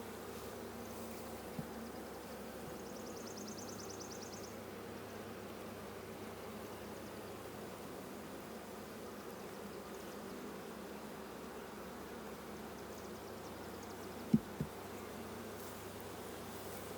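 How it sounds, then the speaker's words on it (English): Bees hum steadily from a large swarm colony during a hive inspection, a faint, continuous drone with a couple of brief knocks near the end. "There's a tremendous amount of bees in this colony."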